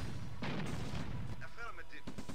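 Units in Command and Conquer: Red Alert shelling and blowing up a power plant, loud continuous booming gunfire and explosions, with someone talking over them.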